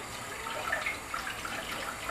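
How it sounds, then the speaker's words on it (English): Dried burger fish being washed under running water from a tap, a steady moderate splash and gush with no talking. "Now we're just gonna wash the fish."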